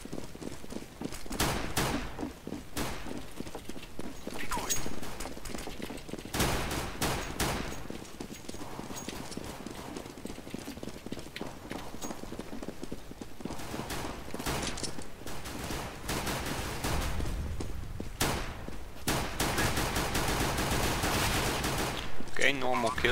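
Pistol gunfire in CS:GO during a pistol round, scattered sharp shots and short bursts recurring through the clip against busy in-game noise, with a voice talking at times.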